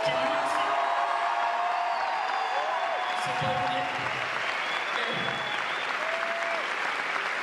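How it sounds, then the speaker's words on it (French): A large audience at the Grand Rex cinema applauds and cheers for Mathis in a steady roar of clapping, with someone speaking briefly over it. "j'aimerais un tonnerre d'applaudissements pour Mathis"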